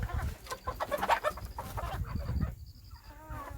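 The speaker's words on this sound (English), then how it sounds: "There are around 200 chickens out here, both male and female." Chickens on a farm flock of about 200 hens and roosters cluck and call near the water bowl, a busy cluster of clucks early, then scattered calls and a higher bird call later, with no talk.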